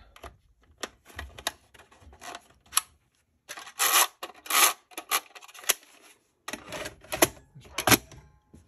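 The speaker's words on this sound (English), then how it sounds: "let's pull this out, reseat the tape" A videotape is pulled out of and reseated in a 1983 JVC HR-7100U VCR. Close, dry plastic clicks, rubs and scrapes come in irregular clusters, separated by brief silences.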